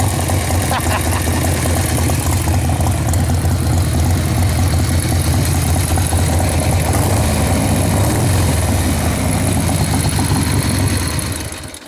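A motorcycle engine idles and warms up after a ride home from work, a steady, loud, low rumble that runs unbroken through the whole stretch with no talk.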